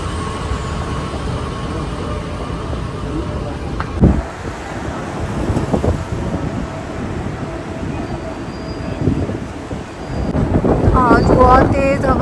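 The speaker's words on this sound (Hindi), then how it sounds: "आज बहुत तेज हवा है, बहुत ज्यादा तेज।" Strong outdoor wind buffets the microphone near the Gold Souk in Dubai, a steady loud rumble with gusts that swell and ease, some rattling and clattering noise in the background.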